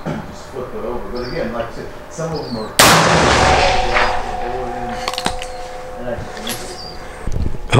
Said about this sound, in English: we're going to test the second charge. It's going to be 28 grains of powder